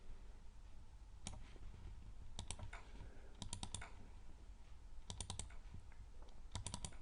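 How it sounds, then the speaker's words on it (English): Computer keyboard typing in short bursts of quick key clicks separated by pauses, close and fairly crisp over a low steady room hum; a directory name is being entered. "So we're going to go and type in the name of that directory,"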